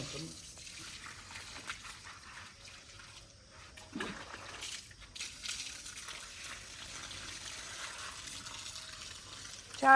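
Water runs into a farm field in a steady, rushing trickle that rises and falls, with a few splashy bursts, close by and fairly faint, with some speech over it.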